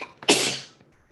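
A child sneezes once, a short sharp burst that trails off quickly, loud and close with no talking.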